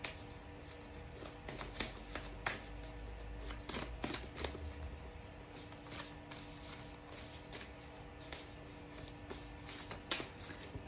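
Playing cards handled and shuffled at close range, with repeated riffling bursts and soft flicks over a quiet, steady room background; no voices.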